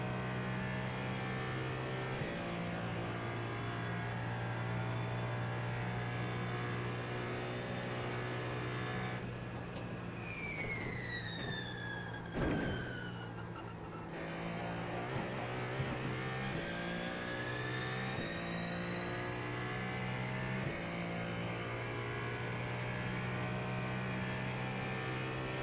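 Ferrari 499P race car in a racing video game, its engine droning steadily and loud throughout with shifting harmonic pitch through gear changes, a brief rising whine in the middle and a sharp transient around halfway, no talk.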